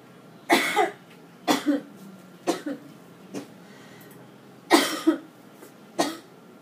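Six separate coughs, close and fairly loud, in irregular bursts with quiet pauses between them and no talking.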